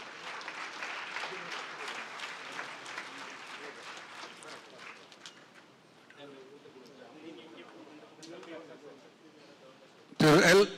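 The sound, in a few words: audience applause at awards ceremony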